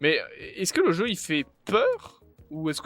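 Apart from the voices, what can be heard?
No distinct noise like a dog, phone or traffic.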